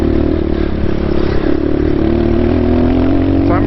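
A dirt bike's engine drones loud and close on a single-track trail in Hobble Creek Canyon, holding a steady rumble with slight pitch shifts and rattling clatter throughout, and no talking.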